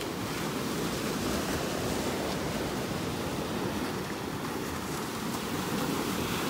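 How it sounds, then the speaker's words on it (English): Small surf breaking steadily on the Gulf of Mexico beach at Delnor-Wiggins in North Naples, Florida, a continuous close wash of waves with wind buffeting the microphone and no voices. "We got some nice little waves out here this morning."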